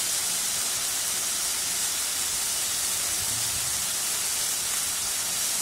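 Turkey berries (sundakkai) sauté in a hot pan, making a steady, dense sizzling hiss that carries on evenly throughout with no talk.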